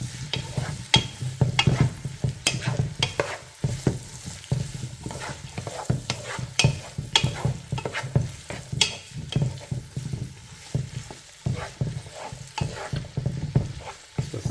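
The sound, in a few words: sautéing vegetables in a pot for corn bacon chowder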